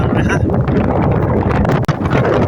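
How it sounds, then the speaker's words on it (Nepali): Strong wind buffets the microphone in hill country in a loud, continuous roar with rumbling low gusts, nearly unbroken except for one brief dip. "हावाले उडाइराखेको छ क्या त्यस्तो कडा हावा"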